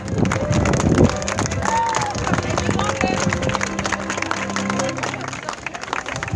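Wedding guests applaud the proud parents, a steady crowd clapping that fills the whole stretch with some murmuring and a rougher, noisier texture mixed in.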